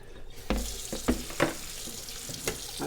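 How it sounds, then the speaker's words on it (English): Tap water runs and sprays over corn sitting in a strainer at a kitchen sink, a steady hiss broken by several louder splashing bursts as the spray hits the kernels. Close and moderately loud, with no talking. "I take over the running water and I just give it a nice little spray"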